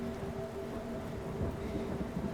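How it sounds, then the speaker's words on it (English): Heavy rain pours steadily as a dense, even hiss with a low rumbling undertone, constant and close throughout. "Rain was pouring"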